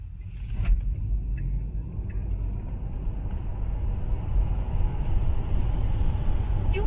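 A Tesla Model 3 Performance accelerates hard from inside the cabin, giving a low, rising rumble of road and motor noise that swells steadily, with a few faint voices in the background.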